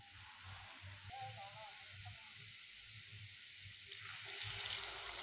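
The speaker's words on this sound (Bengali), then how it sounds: "জল দিয়ে দিলাম।" Water added to a pot of braised taro curry during home cooking, heard as a steady hiss and splash of pouring that grows louder toward the end, with no talk.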